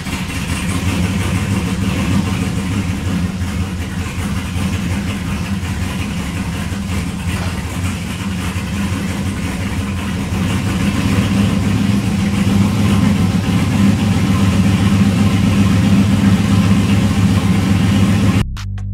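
A car engine idles steadily and loudly nearby for the whole stretch, a constant low rumble with no revving and no voices, cutting off abruptly at the end.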